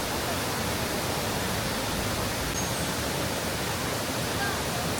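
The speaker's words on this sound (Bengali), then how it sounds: "এটি বর্তমানে শ্রীলঙ্কার অন্যতম প্রশস্ত জলপ্রপাত" A wide waterfall about twenty-five metres high near Ella, Sri Lanka roars as a steady, uniform broadband rush with no breaks, filling the scene evenly.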